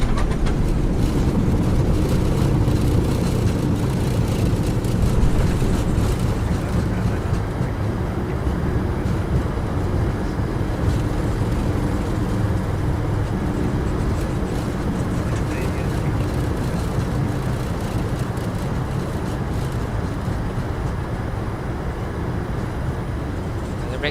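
A PMDG 737-800 airliner in Microsoft Flight Simulator 2020 touches down hard at Bergen and brakes, giving a steady loud low rumble of rollout and engine roar throughout, with no clear break.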